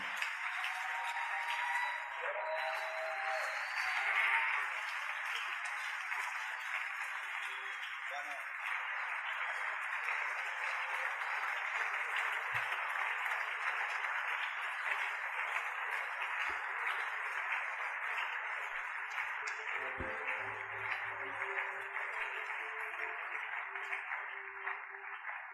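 Church congregation applauding and cheering to welcome a pastor, a steady wash of many hands heard from a distance that holds for the whole stretch, with voices mixed in.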